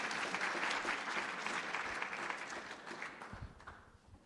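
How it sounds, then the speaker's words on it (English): An audience at an education and science partnership event applauds, a full, dense round of clapping that holds steady, then gradually thins and fades toward the end. "Please give a round of applause for Ambassador McFaul."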